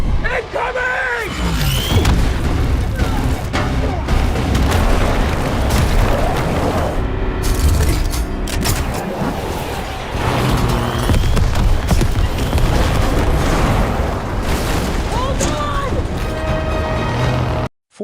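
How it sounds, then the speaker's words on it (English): Explosions detonate around a truck in a war film, with heavy booms and thuds in a dense, loud, continuous battle mix that also carries voices. "44 struggles to control the vehicle as explosions detonate all around."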